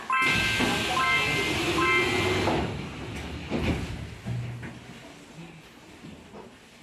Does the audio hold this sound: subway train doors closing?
yes